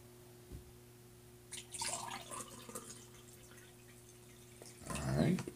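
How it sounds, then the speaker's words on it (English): A homemade green tea and honey brew being poured, with faint liquid splashes in a quiet room and a louder burst of pouring near the end. "Alright, pour is good."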